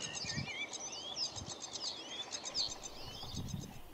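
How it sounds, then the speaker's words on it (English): A sedge warbler at a nature reserve sings a busy, raspy chatter of quick scratchy notes and whistles, faint and steady over soft outdoor background noise. "we've got a sedge warbler actually showing well with its busy raspy chatter."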